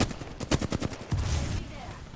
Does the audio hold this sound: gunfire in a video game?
yes